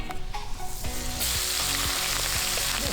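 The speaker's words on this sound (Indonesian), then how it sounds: "Selain ikan, emak juga goreng udangnya." Fish and shrimp frying in a pan of hot oil, a dense steady sizzle that swells louder after the first second, with faint stirring scrapes, close up and continuous with no voices.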